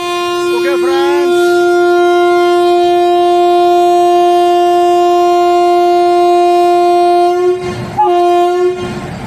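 The Yercaud Express with new LHB coaches sounds a long, loud, steady horn blast as it starts its run, close by; a brief voice is heard at the start and a clatter of movement follows near the end.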